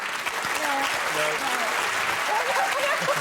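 A studio audience at a Christmas special of a TV word-game panel show claps in steady, dense applause throughout, with voices talking over it.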